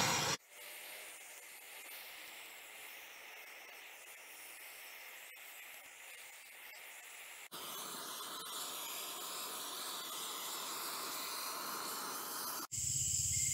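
A MAPP gas torch fires onto a stainless steel bowl, giving a steady roaring hiss that shifts to a louder, harsher roar partway through and then cuts out near the end.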